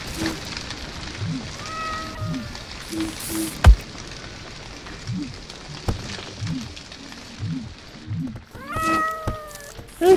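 A small kitten meows in a video game, in a few short upward-bending cries near the start and again near the end, with game sound effects and a thump around them.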